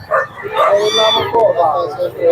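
A two-month-old male ragdoll kitten meows repeatedly in close, bright, rising-and-falling calls at a busy Bocaue pet market, with people talking around it.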